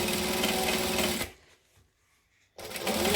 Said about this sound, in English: we're going to stitch 1/8 of an inch from the stitching that we just did